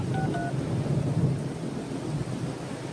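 A telephone dials out: two short pairs of keypad tones near the start, then a steady low rumble of thunder and rain continues alone.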